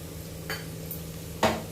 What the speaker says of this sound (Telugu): ఇది బాగా ఫ్రై చేస్తాను, పచ్చివాసన లేకుండా